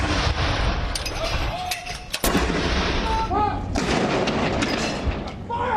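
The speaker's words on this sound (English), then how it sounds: "Those are the sounds of a cannon and gun salute for the Queen." Ceremonial cannon and gun salute fired in honour of Queen Elizabeth II, heard as repeated booming reports over a busy outdoor crowd ambience with some talk in the background.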